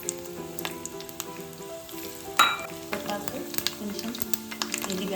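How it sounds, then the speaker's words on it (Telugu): Tempering spices and garlic sizzle in hot oil in a pan for dosakaya chutney, a moderate steady frying crackle with stirring scrapes and one sharp clink partway through. "పాన్ పెట్టుకొని ఇది కొంచెం వేడైన తర్వాత కొంచెం ఆయిల్ పోసి దానిలో కొంచెం తాలింపు వేసుకొని"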